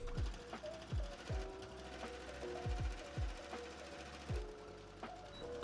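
A sewing machine stitching across dress bodice seams for a princess costume, heard close and quiet with a steady mechanical needle rhythm, regular thumping pulses and a faint motor whine.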